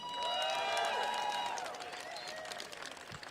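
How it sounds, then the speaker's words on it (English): A political rally crowd applauds and cheers, with shrill whistles rising over faint, distant-sounding clapping that fades after the first couple of seconds. "So give yourselves a big round of applause."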